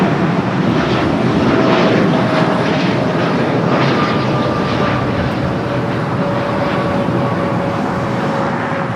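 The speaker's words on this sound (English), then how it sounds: "Air Canada Flight 8786 heading to Toronto, a 787-8 Dreamliner in the minty fresh livery" An Air Canada Boeing 787-8 Dreamliner bound for Toronto departs LAX, its loud, continuous jet roar carrying faint whining engine tones that slowly shift in pitch, steady throughout with no voices.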